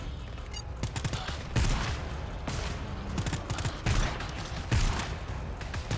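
Gunfire in the video game GTFO crackles in rapid bursts of sharp reports over a steady background rumble, several volleys spread across a few seconds with little talk.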